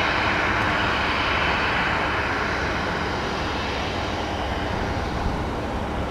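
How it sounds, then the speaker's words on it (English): A Beechcraft Baron piston-engine plane lands on runway 28, its engine a steady, loud, broad rumbling drone that holds evenly throughout and is heard alone. "I think we got something that resembles a piston engine aircraft coming in."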